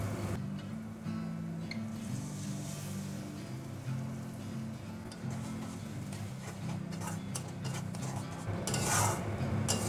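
Thick masala with cashew paste and milk being stirred in a pan for a Bengali pointed gourd curry, a soft continuous rubbing and scraping of the spoon against the pan bottom, close and steady, with no talking.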